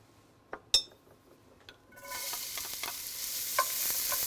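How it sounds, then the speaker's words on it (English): Diced onion dropped into hot olive oil in a pan: a couple of light metallic clinks, then a sudden bright sizzle that rises and keeps crackling steadily to the end. "I've heated up a little bit of olive oil in this pan, and now I'm going to add some onion."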